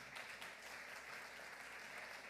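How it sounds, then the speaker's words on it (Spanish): A church congregation applauds during a sermon, a faint, distant, even wash of clapping held for a couple of seconds. "Alguien que le dé aplausos a Él."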